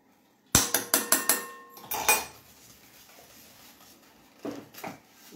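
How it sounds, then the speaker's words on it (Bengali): A spoon clinks repeatedly against a dish while spice mix with dried chili and salt is stirred. The metallic taps are quick and close, come in a cluster, and are followed by a few softer scrapes. "লবণ দিয়ে আমি এটাকে একটু নেড়ে নিচ্ছি।"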